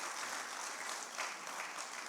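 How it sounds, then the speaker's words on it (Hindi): Applause from a large audience at a Republic Day poetry gathering at the Red Fort, a dense and steady wash of clapping heard from a distance and held evenly throughout. "एक बार उनके लिए ताली बजा दीजिए।"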